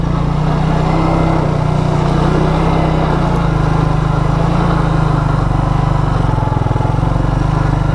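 A 2001 Suzuki Quadrunner 250 4x4 ATV engine while riding, a loud, steady, close-up drone that runs unbroken with a low rumbling pulse throughout.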